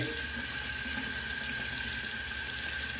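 Water runs steadily from a tap to wet a shaving brush, a constant, even, close rush of flow with no breaks and no talking.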